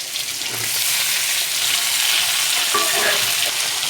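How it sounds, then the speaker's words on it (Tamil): Shallots, garlic and tomatoes sauté in a hot pan with a loud, close, continuous sizzle that swells after the first half second, with faint scraping of a stirring spoon near the end. "நல்லா தக்காளி வெங்காயமெல்லாம் நல்லா வணங்கிடுச்சு"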